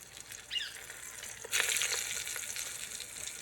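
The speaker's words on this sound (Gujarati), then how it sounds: "આપણે તેલ ગરમ થઈ ગયું છે તો હવે આપણે એમાં રીંગણા મૂકી દેવી" Stuffed brinjals go into hot oil and start frying. A quiet hiss swells into a loud, sustained sizzle about halfway through, with no talking.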